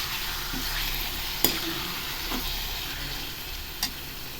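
A ground paste of onion, tomato and raw cumin is stirred into simmering chicken gravy, a soft steady sizzle with a few faint clicks of the spoon against the pan, no voices.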